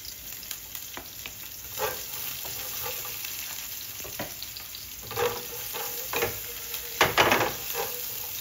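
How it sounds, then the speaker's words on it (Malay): Spice paste sizzles and fries in hot oil in a pan for a Malaysian-style chicken curry, with scattered stirring scrapes and a steady crackle throughout, fairly quiet and close. "So kita tumiskan bahan-bahan tumisan ni guys."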